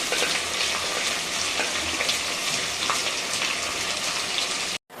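Onions sizzle and crackle in hot oil, a steady close frying hiss with no speech.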